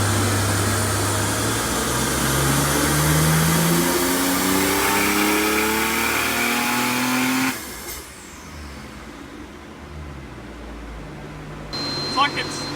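An RB25/30-powered Nissan Z32 engine on the dyno revs hard, its pitch climbing steadily under load for several seconds before dropping to a lower idle-like drone, loud and close.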